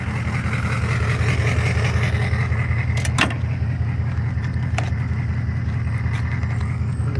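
A truck engine idles steadily and fairly close, a low continuous rumble with an even pulse, while a couple of brief metallic clicks or jingles sound near the middle of the recording.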